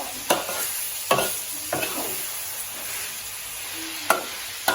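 Pork cracklings fry in oil in a pan for chili paste, sizzling steadily while a utensil scrapes and stirs them in several sharp, close strokes, with no talking.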